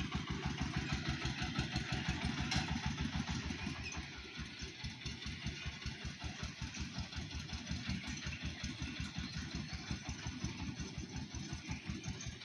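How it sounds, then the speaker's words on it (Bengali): A vehicle engine drives across a dry-season field, chugging in a steady, rapid pulse that sounds fairly close and even throughout, with no talking. "তো দেখুন এই গাড়িটি মাঠে মাঠে এখন চলে যাবে"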